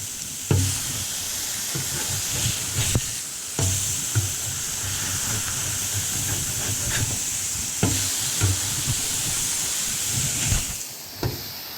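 Burger patties sizzle hard on a hot plate after being flipped, a close, steady hiss broken by sharp scraping and tapping of a spatula every second or two, with nobody talking.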